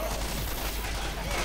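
Dense gunfire from the zombie shooter Left 4 Dead 2, a steady loud wash of overlapping shots running the full length with no break, with voices mixed in underneath.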